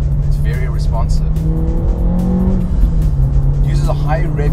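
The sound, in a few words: Renault Clio Gordini RS 2-litre engine revving while driving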